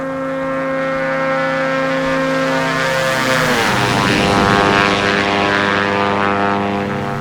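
Retraction of the landing gear on a Diamond DA-62 twin-engine propeller plane in flight, simulated in X-Plane: a loud, steady engine and propeller drone, a brief shifting whoosh midway as the gear moves, then the drone continues unbroken.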